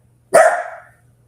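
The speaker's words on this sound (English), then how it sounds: "With Scooby barking." A small yappy dog gives a single sharp bark, close and loud, against an otherwise quiet background with faint hum.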